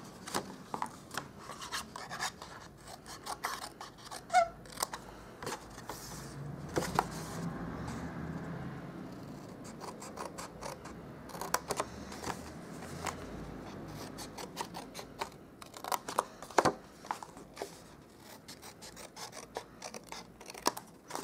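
Cardstock is cut with scissors for a Stampin' Up box, giving quiet, irregular snips and rasping scrapes up close, scattered across the clip with soft rustling handling between them.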